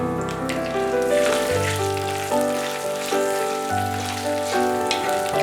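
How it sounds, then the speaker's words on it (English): Crushed ginger and chili mixture sizzling in groundnut oil in a karai, a continuous crackling fry heard beneath steady tonal background music. "Add the crushed ginger chili mixture and saute for a minute or two."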